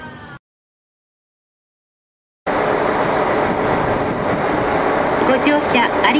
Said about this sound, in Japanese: 1番線から札幌方面小樽行き普通列車が発車いたします